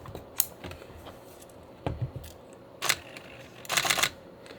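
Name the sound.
closing the film back of a Nikon F5 camera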